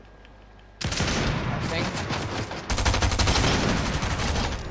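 Rapid bursts of SMG fire in the Fortnite video game, starting abruptly and continuing as a loud rattling stream with a second sharper volley partway through, while a player speaks briefly over it.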